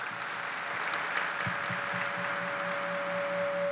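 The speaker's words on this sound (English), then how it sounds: "Please, a round of applause." A standing audience applauding Professor John Okoye at a university public lecture: sustained, even clapping from a large crowd in a hall, with a steady tonal hum running underneath and some low knocks partway through.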